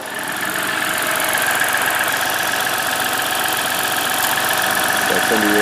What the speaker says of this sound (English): Tell by the rumble, I'm sure you can hear it, so put that diesel rumble in it.